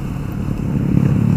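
A 2013 Yamaha Byson motorcycle rides past close by, its engine giving a loud low rumble that builds slightly in intensity over a second and a half.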